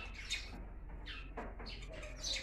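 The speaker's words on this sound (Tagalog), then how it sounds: "Ang daming pumasok na mga maya sa lagang bahay namin. Kaya maingay." Several house sparrows that have flown indoors chirp and squawk in short bursts close by, their calls echoing slightly as in an enclosed room, with no talking.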